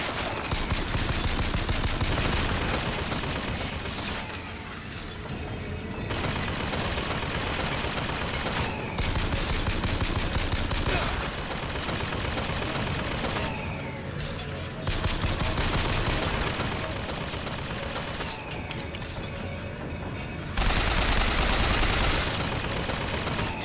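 Sustained gunfire in Bioshock Infinite comes in long, loud bursts separated by brief lulls, with a voice occasionally heard among the shots.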